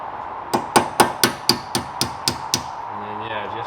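A small punch is hammered to loosen a circlip during a rear wheel bearing replacement on a 2007 BMW E90/E92 M3: nine sharp, close metallic strikes in a steady rhythm, then a faint hum.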